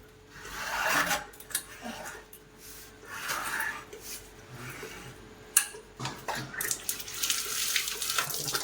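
Tap water runs at a home sink as hands are washed, a soft uneven splashing and rubbing that comes in short bursts, fairly close and quiet.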